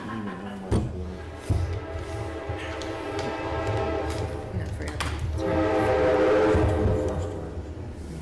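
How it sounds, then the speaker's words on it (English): A train rumbles past outside with a sustained horn blast, heard through open windows under occasional indoor voices in a village board meeting. "Yeah, but we hear the train."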